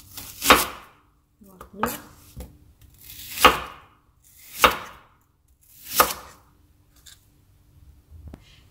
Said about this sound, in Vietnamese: Hành tây này thì các bạn sẽ bổ mùi cau nhé.